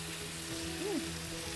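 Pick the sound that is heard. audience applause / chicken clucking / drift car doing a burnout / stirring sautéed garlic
stirring sautéed garlic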